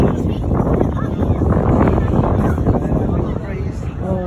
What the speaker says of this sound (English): Wind, eh?